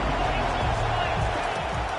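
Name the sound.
loud stadium crowd cheering in a college football video game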